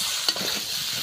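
Duck meat sautéing in a pan, a steady close sizzle with one brief scrape of stirring near the start, no voices.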